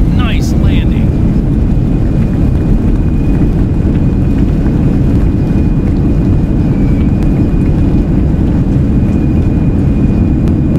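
Airbus A320 landing rollout with thrust reversers deployed, a loud, steady broadband roar of engines and airflow filling the whole stretch, with a faint whine above it.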